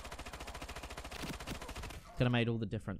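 Rapid SMG fire from the shooter Ironsight rattles in a fast, even stream for about two seconds, then someone speaks loudly over it.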